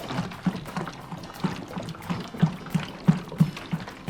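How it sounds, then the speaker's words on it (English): Water poured into a 20 litre bottle, an uneven glugging trickle with repeated soft plunks and splashes, close and alone. "I'll just pour away until we get to that point"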